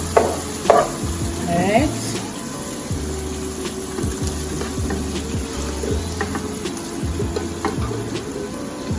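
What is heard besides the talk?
ackee frying and being stirred in a pan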